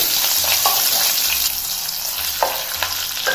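Ginger and green chillies frying in a pan of hot oil for a rice prasadam dish, with a steady close sizzle and a few stirring scrapes, and no voices.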